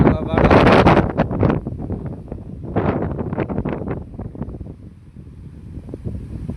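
Strong cyclone wind roars and buffets the microphone in a village, loudest at the start, while a voice talks over the gusts.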